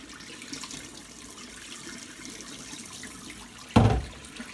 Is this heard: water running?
yes